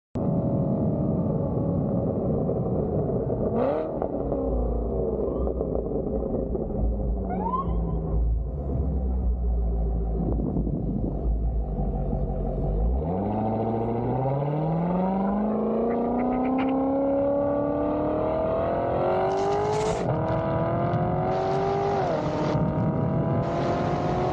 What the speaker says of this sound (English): Basically, most of them are just him driving at night.